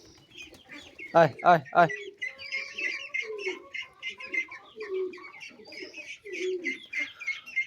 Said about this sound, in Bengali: দেখতে পাচ্ছেন এই কবুতরগুলো, এগুলো আমার বাইরে ছেড়ে দেওয়া কবুতর